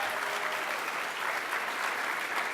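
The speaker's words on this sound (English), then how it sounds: "They deserve another huge round of applause for making this happen." Steady applause from a conference audience at the opening of ONA18, a dense even patter of many hands heard from some distance, moderately quiet and uninterrupted for a few seconds.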